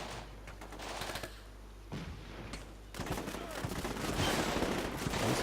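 Bursts of machine-gun and rifle fire crackle in Combat Mission: Shock Force 2, a Fallujah battle scenario, with dense overlapping volleys that build to continuous fusillade toward the end, mixed with a low rumble.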